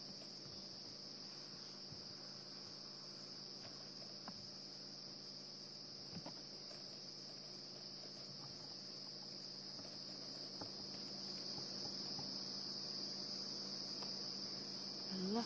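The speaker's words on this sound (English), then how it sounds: "Lots and lots of cicadas and crickets all of a sudden." A steady, high-pitched chorus of crickets and cicadas at night on an African safari drive drones on, faint and distant, with no talk.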